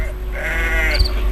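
A sheep in a flock bleats once, a loud, close, wavering cry lasting about a second over a low hum.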